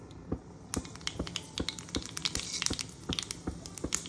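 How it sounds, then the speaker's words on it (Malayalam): Mustard seeds splutter in hot ghee, giving sharp, irregular pops and crackles that come thick and quick at close range, with no talking. "നെയ്യ് ചൂടാവുമ്പം അതിലേക്ക് കടുക് ഇട്ട് കൊടുക്കുക."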